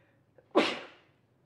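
One sharp human sneeze, close and loud, preceded by a small intake of breath and trailing off quickly into quiet; no talking.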